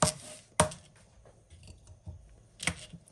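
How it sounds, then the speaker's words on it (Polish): A knife chops through rhubarb on a board, three sharp separate cuts spaced about a second apart, close and crisp, with quieter handling noises between them. "Także kroję na 2 części wzdłuż."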